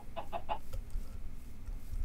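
A chicken in the Minecraft video game gives three quick clucks close by at the start, then a low rumble carries on alone.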